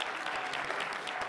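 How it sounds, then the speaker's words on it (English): Audience applause at a real estate seminar, a brief dense patter of many hands clapping, moderately faint and without talk. "Can we please give Mr. Mark Dimas a huge round of applause"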